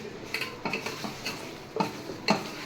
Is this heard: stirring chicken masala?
yes